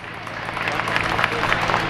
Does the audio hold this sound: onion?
no